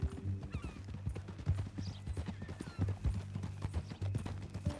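A horse's hooves clip-clop in a steady, repeated rhythm at moderate distance, fairly quiet, with faint background noise and no clear talk over it.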